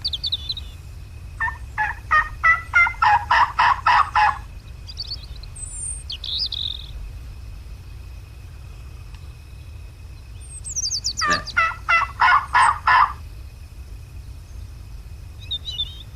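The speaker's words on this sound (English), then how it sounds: "We got a bird gobbling" Two loud, rapid gobbling bursts from a wild turkey in the video game Turkey Hunting Unlimited, each a quick rattling series, separated by a pause with faint chirps over a low steady hum.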